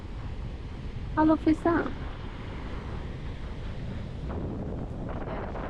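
Steady, rushing seaside wind buffets the microphone throughout, loud and close, with a short stretch of talk partway through.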